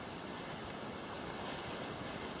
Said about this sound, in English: I can hear water up here.